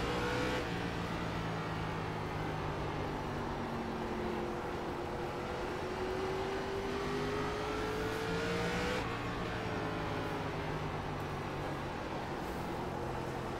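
An ARCA race car engine from the iRacing sim, driven at Langley, drones steadily and loudly in a high gear. Its pitch shifts gradually as the car cruises, and no voices are heard over it.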